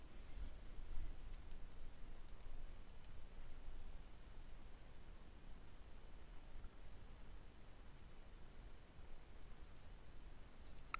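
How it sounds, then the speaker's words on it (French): A computer mouse clicks a few times, sparse and faint, scattered over a steady low hiss with no one talking. "Ici, le curseur, si je clique dessus,"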